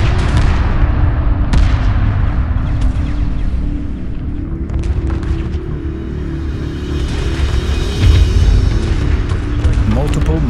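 Weapons fire during a space battle in Homeworld 2, dense, rumbling, repeated booms and gunfire under a constant low roar, with a voice speaking over part of it.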